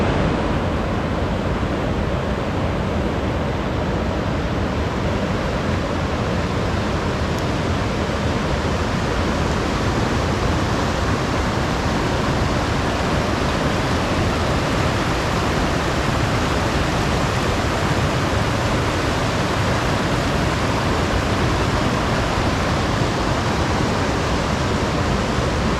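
A waterfall in Nantahala National Forest near Highlands, North Carolina, gives a steady, loud, unbroken roar of rushing water that stays even and close throughout, with no voices over it.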